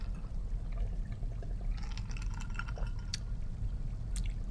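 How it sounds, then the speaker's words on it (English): A person takes a swig of water, giving close, soft sloshing and gulping sounds over a steady low background hum, with no talking. "as I take a swig of my own water"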